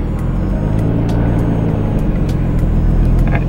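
A Nissan R32 Skyline's engine drones in a loud, steady, low rumble inside the car as it nearly stalls pulling away, with faint clicks above it and no talking.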